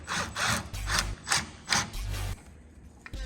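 Bolts are driven in with a ratcheting tool while mounting a Harbor Freight rolling sitting tool chest: several short, rhythmic bursts of clicking and grinding, close by, then a brief pause and one last burst.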